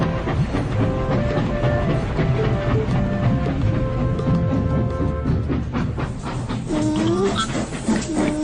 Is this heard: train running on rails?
yes